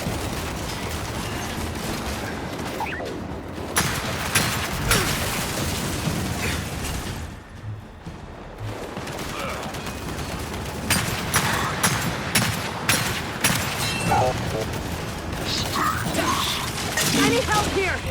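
Heavy turret gunfire in the shooter game Gears 5, with dense, continuous bursts of automatic fire and impacts that fill the scene almost throughout, dipping briefly partway before resuming, with voices shouting over the battle.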